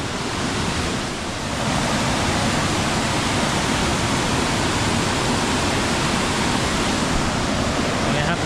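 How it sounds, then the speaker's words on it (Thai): Steady, loud rushing water from a waterfall near Kewata, Nan province, Thailand pours continuously, a broad roaring wash with no breaks. "มาถึงน้ำตกแล้วทุกคน นี่สวยนะสวยมากครับ"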